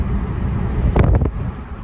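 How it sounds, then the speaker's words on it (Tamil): Wind rushing through an open car window while driving, a steady low buffeting roar with a short louder gust or passing vehicle whoosh midway. "ஏசியில் போகிறத விட ஜன்னல் நீக்கி வச்சு இந்த இயற்கை காற்று வாங்கிட்டு போகிறது தான் ரொம்ப சுகமாக இருக்குது"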